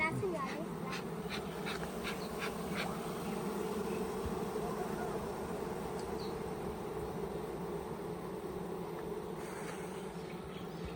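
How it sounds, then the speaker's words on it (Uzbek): Honeybees hum in a dense, steady drone from a strong, crowded hive as it is being treated, the buzzing continuous and fairly quiet, with faint background noise. "Haqiqatdan kuchli uy ekan bu, arilarni qaranglar, to'lyapti."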